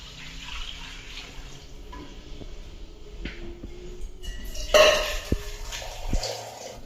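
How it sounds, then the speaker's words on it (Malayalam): Two cups of water poured into a pot of rice for ghee rice, mostly a soft background wash with a brief, louder splashing pour near the end and a few light clinks of metal cookware. "ഞാൻ രണ്ട് കപ്പ് വെള്ളം ഒഴിക്കുന്നുണ്ട് കേട്ടോ"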